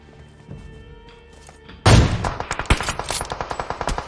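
AKM rifle gunfire in the mobile battle royale game PUBG Mobile: after quiet ambient sound, a loud first shot opens a rapid, evenly spaced automatic burst of close, sharp reports that keeps going to the end.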